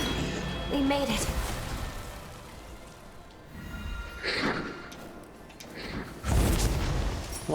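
Explosions in the video game Code Vein 2, several booming bursts spaced a few seconds apart, with muffled game audio and voice-like sounds between them.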